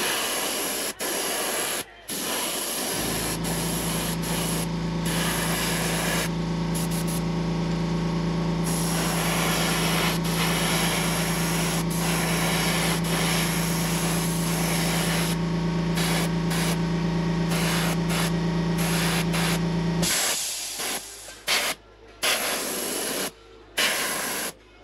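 Airbrush spraying paint onto a swimbait in a pumpkin seed pattern, a steady continuous hiss of air and paint running for about seventeen seconds, with short handling noises before and after.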